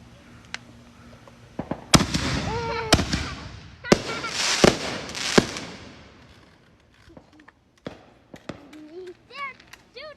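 Fireworks launching and bursting in a residential cul-de-sac, a string of loud sharp bangs and crackles in the first half that fade to scattered pops, with people talking and exclaiming around them.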